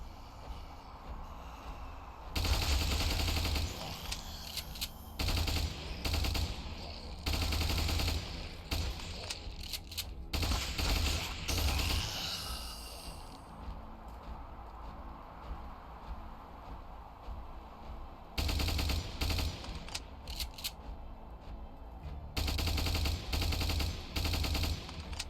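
Gunfire from troops shooting zombies in the battle game Ultimate Epic Battle Simulator, dense repeated volleys of rifle fire in long bursts with brief lulls, a continuous crackling barrage.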